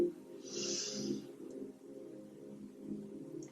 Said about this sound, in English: Taking a large inhale through the nose.